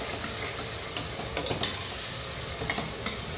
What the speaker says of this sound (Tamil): உப்பு போட்டு நல்லா கலந்துடும்